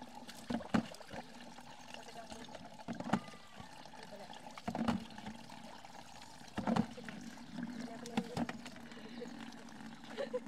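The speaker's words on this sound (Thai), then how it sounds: "น้ำไหลสา" Water runs and splashes from a roadside tap or pipe where someone bathes in rural Laos, a soft trickle with intermittent louder splashes and pours, under people talking.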